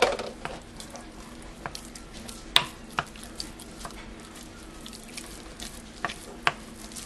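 A wooden spoon stirs ricotta cheese in a bowl, giving a soft, wet, continuous mush dotted with irregular light clicks and taps from the spoon, quiet and close.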